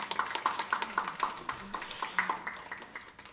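Church congregation clapping during a Sunday worship service, a steady rhythmic run of claps at a quick even pace with occasional ringing tones, moderately near.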